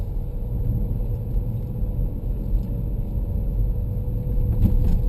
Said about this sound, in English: Driving on the interstate about 35, 45.